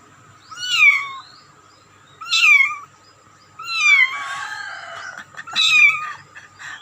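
A mother cat with a litter of four kittens meows indoors in a room, four separate rising mews spaced about a second apart, fairly close and clear, with no talking.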